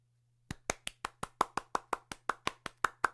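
Hands clap about fifteen times in a steady, fairly quick rhythm, close and crisp, starting after a brief silence and going on to the end over a low hum.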